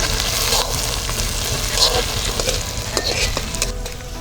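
Ginger sizzles steadily in hot oil while being cooked for a fish curry, with a close, continuous frying hiss and occasional stirring scrapes.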